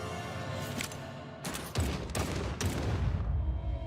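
Bursts of rapid gunfire from the video game Chicken Police, several loud volleys crackling one after another with a heavy low rumble, filling the whole moment without talk.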